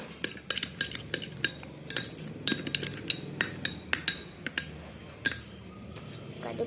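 Homemade slime mixture being stirred in a bowl, giving a run of sharp clinks and scrapes of a utensil against the container at an uneven, quick rhythm, close and fairly quiet, with no talking.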